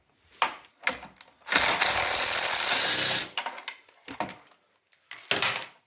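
Bolts being removed from a Polaris snowmobile ski with a tool: a sustained whirring burst of about two seconds, framed by short metallic clicks and clanks, close by.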